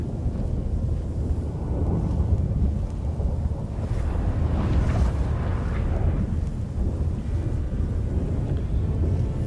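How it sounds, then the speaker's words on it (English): Stormy wind and rolling rumble from a thunderstorm in The Witcher 3 video game, a dense, steady low roar with gusting surges, loud and continuous throughout with no clear voices. "That a storm?"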